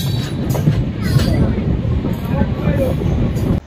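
A passenger train on the Kolkata to Shillong route, heard through an AC coach window, gives off a loud, steady rumble with faint wheel clatter that runs without a break.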